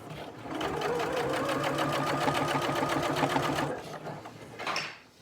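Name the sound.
sewing machine stitching piping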